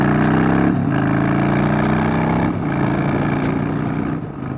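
A car engine runs steadily while driving, a loud, close, continuous hum with smooth gear-like pitch shifts and no voices.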